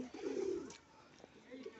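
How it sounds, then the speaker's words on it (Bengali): Pigeons coo softly in a low, throaty burst near the start at a museum enclosure in Murshidabad, followed by quieter murmurs and faint background sounds. "সুন্দর সুন্দর পয়রা"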